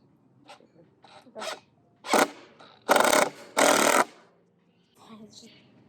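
Short bursts of a power drill whirring while building a cattle panel greenhouse, a few brief pulses and then two longer loud runs, with quiet talk between them.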